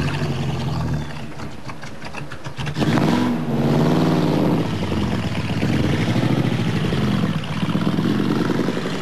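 A car pulling away and driving off, its engine rising as it accelerates through the gears, loud and near at first, then holding a steady drone, with no talk.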